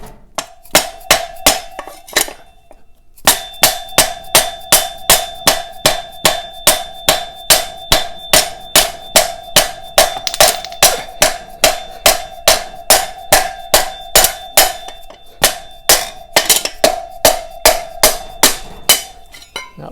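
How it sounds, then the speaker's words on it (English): A dead blow hammer strikes a knock-off wheel wrench on a big-single flat track motorcycle, landing dozens of sharp, evenly spaced metallic blows in a steady rhythm after a brief opening burst and pause, close and loud with no talking. "Dead blow hammer and the appropriate knockoff wrench."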